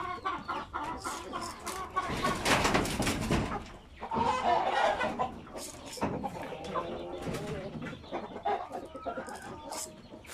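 Chickens kept in a confined coop, heard as a busy mix of nearby clucks and calls in irregular bursts, with a louder flurry partway through and a person talking among them.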